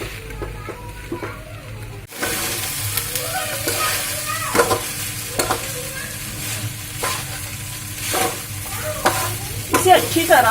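Sabudana khichdi is stirred in a hot pan. After a quiet start, a continuous sizzle sets in, broken by repeated scraping strokes of the spoon at close range, with no talking.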